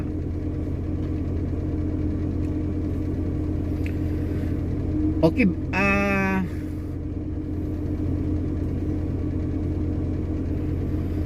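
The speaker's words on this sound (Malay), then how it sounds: "baru kita panaskan enjin selama 5 minit" A car engine idles steadily while warming up after gearbox oil treatment is added, a constant low rumble with a brief spoken word and a short tonal sound in the middle.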